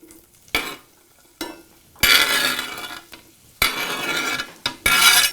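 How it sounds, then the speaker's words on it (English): Onion and garlic cooking in oil in a pan, heard as bursts of stirring and scraping with a sizzle beneath, close and fairly loud, coming in several uneven strokes with quieter gaps between them. "You cook the onion and the garlic together."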